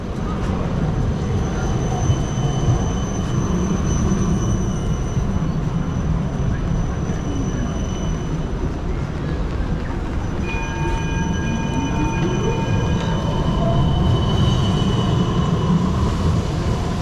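A tram passes a narrow tram stop on Elizabeth Street on a rainy day, its steady rumble and wheel noise rising and falling through continuous street ambience, with a faint metallic tone sweeping in partway through.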